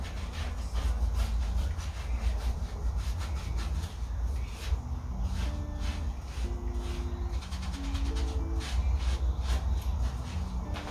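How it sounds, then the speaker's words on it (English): A sponge rubs and massages stain remover into a horse's coat in a steady scrubbing rhythm, a continuous close rasping texture that runs throughout with faint tonal background sounds underneath. "I'm going to put it on a sponge instead this time and massage this bit in"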